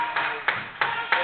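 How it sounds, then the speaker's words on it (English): Applause and crowd noise fill a college men's basketball gym during a game, a broad continuous wash with four sharp bursts of louder cheering about a third of a second apart. "As you hear the applause from just about everybody in the gym"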